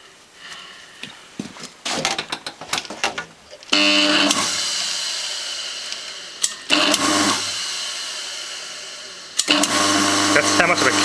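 A sewing machine motor with dry-rotted rubber mounts starts and stops in bursts of loud whirring, running steadily for a few seconds at a time, with someone talking between runs.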